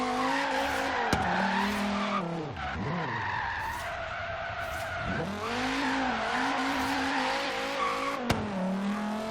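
A Dodge Viper drift build in the racing game Forza Horizon 3 revs hard while sliding, its engine note rising and falling as the tires squeal continuously, with a couple of sharp clicks.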